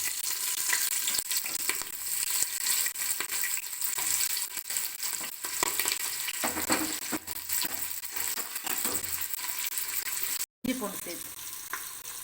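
Onion and green chilli frying in ghee for biryani: a dense, loud crackling sizzle close up, with scattered spatula clinks and a brief dropout near the end.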